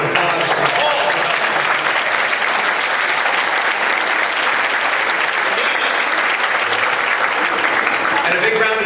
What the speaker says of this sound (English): a big round of applause for Paul